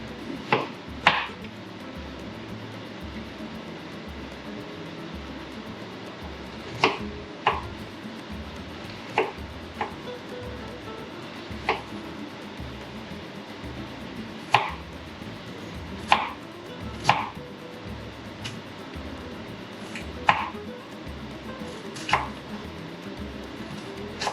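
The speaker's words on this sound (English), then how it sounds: "this is the fastest I've ever been able to cut any kind of vegetable before" An onion is chopped with a knife on a board: sharp, distinct chops land at irregular intervals over a quiet kitchen background, sometimes in quick pairs.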